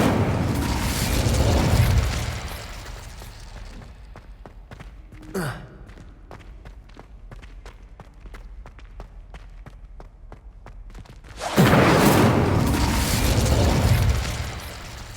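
An Incendio fire spell in a wizarding video game roars up as a loud broadband whoosh, drops back to a crackling lull with a brief sharp burst, then surges loud again near the end.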